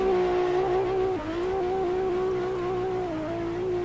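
A drift car's engine in the racing sim Assetto Corsa at the Ebisu Minami track drones loudly and steadily at high revs, with a brief dip in pitch before climbing back.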